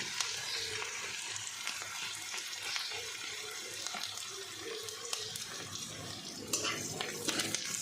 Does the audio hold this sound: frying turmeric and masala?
yes